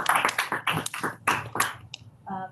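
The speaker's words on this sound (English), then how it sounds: "Maybe we can do a round of applause" A seminar audience breaks into a round of applause, a dense patter of claps that fades after a couple of seconds, followed by a brief lone tap and a short spoken murmur.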